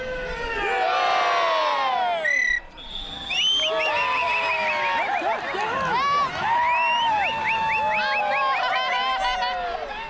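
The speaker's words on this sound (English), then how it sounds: "The crowd cheered and jeered as they supported for their own contestants." A crowd at an outdoor strongman competition in Bhutan cheers and jeers for the contestants: many voices shouting and whooping loudly and continuously, overlapping in waves with a brief dip midway.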